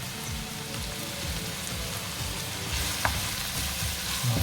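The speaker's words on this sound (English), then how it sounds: "Now let them just cook in the oil and also the juice from the lamb and the fats that's from the lamb meat" Whole spices such as lemongrass, cloves and cardamom sizzle and crackle in hot oil and lamb fat, a dense steady frying hiss with small pops throughout, close and alone.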